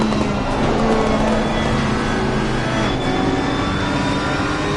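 Race cars lapping Silverstone in the Assetto Corsa Competizione racing game, a steady dense engine roar with a constant high whine, loud and continuous with no talk over it.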